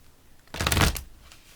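A single quick riffle of cards being shuffled, a short crisp burst lasting about half a second in a quiet room.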